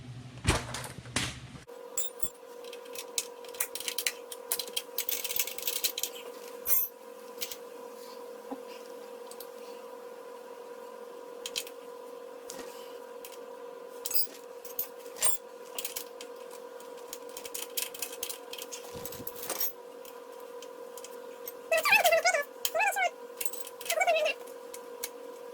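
A bolt on a brake system, torqued to 32 foot-pounds during master cylinder and brake hose replacement, gives off scattered close metallic clicks and rattles over a steady hum, with a busier burst of clicking near the end.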